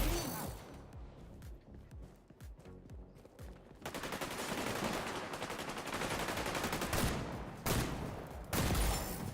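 Gunfire in the XDefiant video game, rapid bursts of automatic shots rattling in dense volleys that grow louder and more continuous after a sparser opening, with some talking mixed in.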